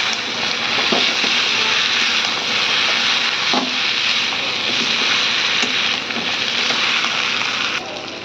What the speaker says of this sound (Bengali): এবার ভেজে রাখা আলু, মাছের মাথাটা দিয়ে দেবো। এবার এটা দিয়ে কষাচ্ছি।